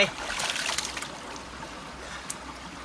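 Fresh water trickles and splashes in a rocky stream, a soft continuous babble with a few brighter splashes, heard close.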